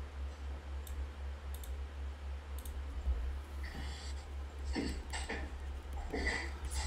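Someone types on a computer keyboard in quiet, sparse bursts of clicks, first a few isolated taps and then faster clusters, faint over a steady low electrical hum.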